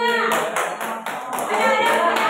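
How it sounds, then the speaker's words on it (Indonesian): Pupils in a classroom clap for their classmates, a short burst of fairly loud, close hand claps mixed with voices talking. "Tepuk tangan untuk teman-temannya."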